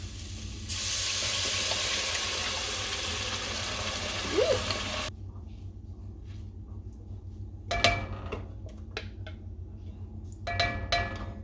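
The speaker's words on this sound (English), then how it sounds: "go ahead and add in your 28-ounce can of either crushed tomatoes or whole tomatoes" Crushed tomatoes from a 28-ounce can hit a pan of frying ground beef, setting off a steady loud sizzle for a few seconds that then cuts out, followed by quiet background with a few clunks of pan and utensils.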